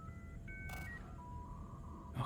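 Steady electronic phone tones ring out in a short sequence of level beeps, fairly quiet and alone, with a brief noisy burst partway through.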